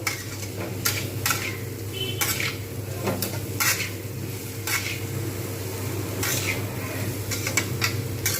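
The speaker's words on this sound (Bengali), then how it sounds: "ধনে জিরে গুঁড়ো লঙ্কা গুঁড়ো হলুদ গুঁড়ো এটা দিয়ে আমি কিন্তু ভালো করে এবারে এটাকে ভেজে নেবো বেশ কিছুক্ষণ নাড়িয়ে চাড়িয়ে নেব" Ground coriander, cumin, chilli and turmeric fry with a steady low sizzle while a spatula scrapes and clinks against the pan in irregular strokes, close and continuous, with no talk.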